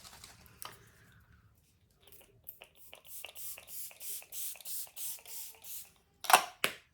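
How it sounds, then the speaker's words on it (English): Tarte Stay Spray setting spray mists onto a face in a rapid run of short, close pumping bursts, after a few quieter clicks and handling sounds, with two sharper spritzes at the end. "We're going to use some Tarte Stay Spray."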